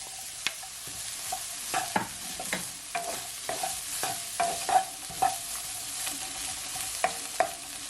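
Shrimp with chili peppers being stir-fried in a pan, with a steady sizzle broken by repeated sharp scraping and clacking strokes of a utensil stirring close by, and no one talking.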